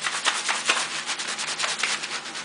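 Soft, rhythmic squishy rubbing of fingertips working shampoo lather into a scalp, close and repetitive, with no voices.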